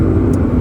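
A 2018 Mazda Miata's engine drones steadily while the car is driven, a loud, continuous low rumble with no breaks.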